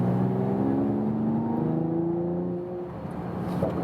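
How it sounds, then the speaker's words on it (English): A performance car in Sport Plus mode sends out a deep droning exhaust note at steady revs, heard from close by, which fades a little toward the end; no talking. "And the exhaust noise is a little louder."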